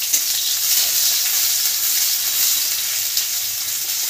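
Bay leaf, cardamom, dried chilli, cinnamon and onion hit hot oil in a pan, producing a loud, close, continuous hissing sizzle that stays even from start to finish.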